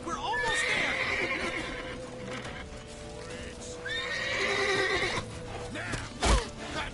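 Horse in The Witcher 3 neighing loudly in a long whinny, then again later, with hoofbeats and voices shouting over the commotion.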